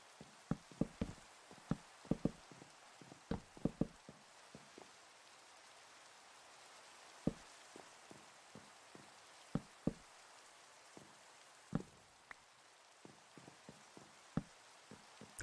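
Scattered raindrops striking a surface, a quiet background of soft patter broken by irregular, sharp, close taps, some in quick clusters and others separated by longer gaps.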